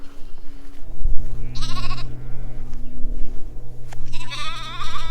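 Sheep bleat in an open field on a countryside hiking path. Two loud, close bleats rise above a steady outdoor background, one near the middle and one at the end.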